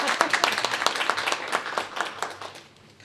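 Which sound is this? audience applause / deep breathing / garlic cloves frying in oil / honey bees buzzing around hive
audience applause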